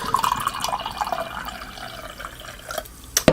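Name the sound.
pouring Rockstar Energy Perfectberry drink into a glass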